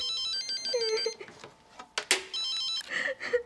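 A telephone rings in a Korean drama scene with repeated electronic ring bursts, clear and fairly close, broken by brief pauses before the call is picked up.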